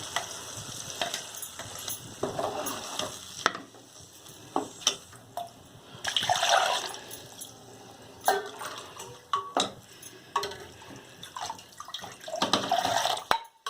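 Tamarind water pours into a hot pan of garlic gravy with a hiss and sizzle, followed by scraping and stirring sounds, clattering utensils, no talking.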